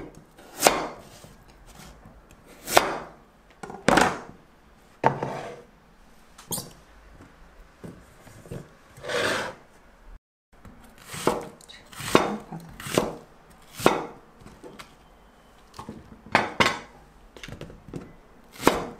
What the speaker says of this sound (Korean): 무를 한번 썰어볼게요. 좀 도톰하게 썰게요.